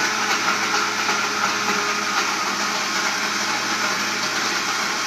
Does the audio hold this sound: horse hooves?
no